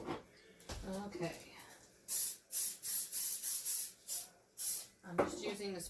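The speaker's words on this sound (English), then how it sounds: "I'm just using the spray oil." A spray can of cooking oil gives a string of short, sharp hissing bursts in a steady rhythm, heard close up. Someone talks briefly before and after the spraying.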